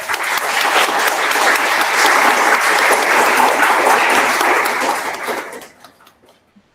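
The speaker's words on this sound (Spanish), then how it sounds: "Un aplauso, por favor, para la doctora." An audience at a conference on mental health for older adults applauds a doctor: a dense, sustained round of clapping that holds steady for about five seconds, then fades out quickly into near silence.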